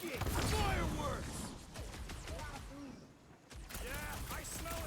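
Fireworks burst in the Guardians of the Galaxy video game as a rapid, crackling string of pops and bangs over a busy game soundscape, fading briefly near the end before another loud flurry.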